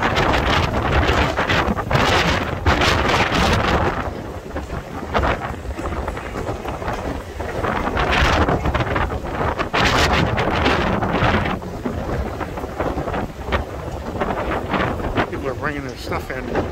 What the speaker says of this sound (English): Too windy out here.